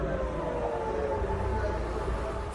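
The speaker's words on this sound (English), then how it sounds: "Sirens and explosions were heard" Air raid sirens wail during a rocket attack in northern Israel, a steady distant rising-and-holding tone over low background rumble.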